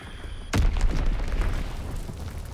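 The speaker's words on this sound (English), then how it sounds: "Enemy bomb incoming." An enemy bomb explodes in a video game: a single sudden loud boom, followed by a rumbling, crackling decay that fills the rest of the moment.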